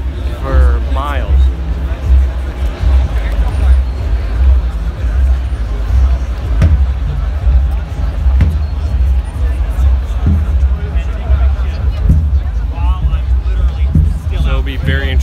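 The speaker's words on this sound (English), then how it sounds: "this crowd goes back for miles" A large street crowd at the G20 protest in Hamburg produces a steady, dense hubbub of many distant voices and movement that runs unbroken throughout, with a few sharp knocks standing out briefly.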